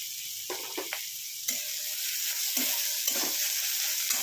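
Onion frying in oil in a pan for a pumpkin and fenugreek curry, with a steady bright sizzle throughout, close and even, broken by a few soft knocks of a spatula. No talking.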